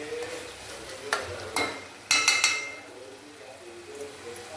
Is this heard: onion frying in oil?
yes